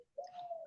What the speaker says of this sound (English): do you hear I have doves